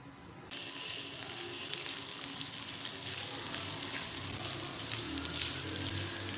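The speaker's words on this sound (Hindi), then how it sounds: "लहसुन को हम थोड़ा सा फ्राई करेंगे।" Garlic paste frying in two tablespoons of hot ghee, a steady close sizzle that starts abruptly and continues evenly throughout.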